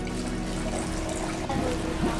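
Water trickles and splashes steadily in a small tabletop fountain, a soft continuous flow heard up close with no one talking.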